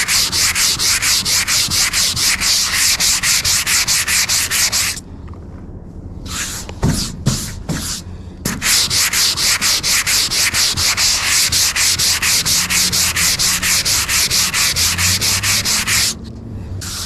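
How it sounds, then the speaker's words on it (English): Light hand sanding of black paint on a widebody STI car body makes rapid, rhythmic rasping strokes, loud and close. The strokes pause briefly midway and resume, with no voices. "just a little bit of light sanding, you can see still black paint"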